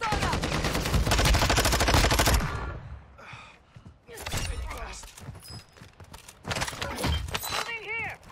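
Heavy gunfire erupts on Ashika Island in Call of Duty: a dense, loud burst of rapid automatic shots, then scattered shots and impacts, while a player talks throughout.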